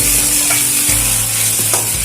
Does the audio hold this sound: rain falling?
no